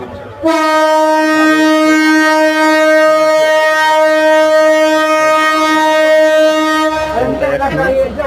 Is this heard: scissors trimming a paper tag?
no